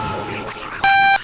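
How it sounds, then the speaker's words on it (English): A steady electronic beep from the video game Metal Gear Solid lasts about a third of a second, loud and clear over softer game ambience and a voice talking. "What is that beep?"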